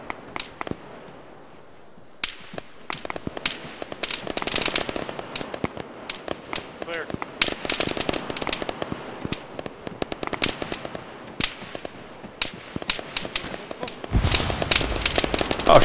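Heavy gunfire in the Arma 3 video game, coming from the north during forest fighting near bunkers: dense, irregular volleys of sharp rifle and machine-gun cracks, near and distant, build to a sustained barrage.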